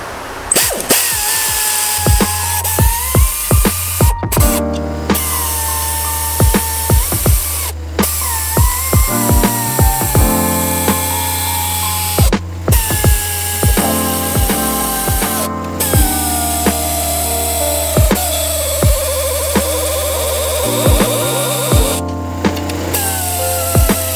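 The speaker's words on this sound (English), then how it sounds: "I'm going to tighten the bolts down until they reach the head" Cylinder head bolts on a 4V 4.6L engine being run down with a power tool, loud repeated bursts of whirring and ratcheting separated by short pauses.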